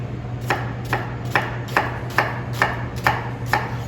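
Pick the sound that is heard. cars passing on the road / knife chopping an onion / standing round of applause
knife chopping an onion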